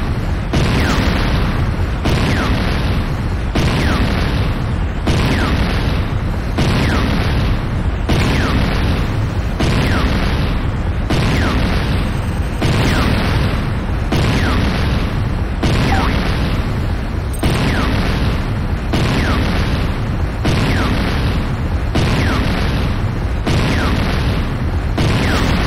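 Buildings blowing up in Command & Conquer: Renegade, a continuous string of loud booming explosions repeating at a steady pace of roughly one every second or two, dense and close throughout.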